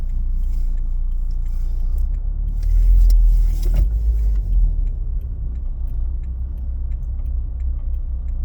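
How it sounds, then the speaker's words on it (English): Cars pass along a road near a spring, a steady low rumble of traffic swelling into one louder, closer pass midway before settling back; no one speaks. "All these cars coming."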